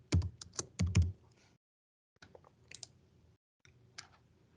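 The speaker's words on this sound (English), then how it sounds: "We can type in Key Drive and find our station." Someone types on a computer keyboard in three short runs of close, crisp keystrokes separated by brief pauses, with no voices.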